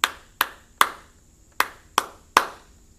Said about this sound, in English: Let's clap it again.